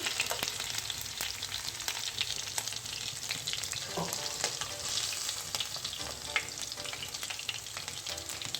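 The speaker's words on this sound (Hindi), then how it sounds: "और इसी तरीके से मैं जो बाकी के पीसेज है वो भी फ्राई कर लेती हूँ" Fish pieces frying in a pan give a dense, continuous crackling sizzle with scattered pops and spatters, close up and steady throughout with no talk.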